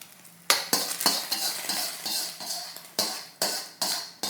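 Egg and green peas are stir-fried in a wok, a rapid series of loud metallic spatula scrapes and clanks over a faint background sizzle, close and rhythmic.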